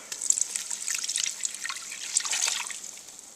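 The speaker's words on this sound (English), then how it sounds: "So after 3 minutes, you add in your 5 cups of milk." Milk is poured into a cooking pot of a Ninja Cooking System for macaroni and cheese, a soft, continuous trickling splash with small bright droplet sounds, close and fairly quiet, swelling slightly toward the end.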